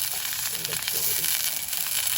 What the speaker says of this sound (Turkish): Böyle kızarıyor.